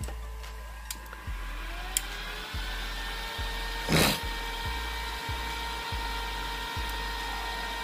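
A ZTE ZXD2400 power supply under repair switches on with a sharp click, then runs with a steady electronic whine and fan hum, punctuated by regular faint ticks and a brief louder burst midway.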